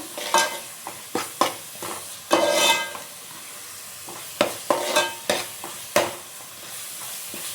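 A spoon scrapes and stirs Kerala-style fish curry masala as it sizzles in a pan, with about a dozen distinct close stirring strokes over a soft frying hiss.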